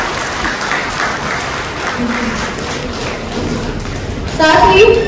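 Dense applause from a large audience at an Andaman and Nicobar administration excellence award ceremony welcomes the chief guest, a steady broadband wash of clapping lasting throughout and swelling louder near the end.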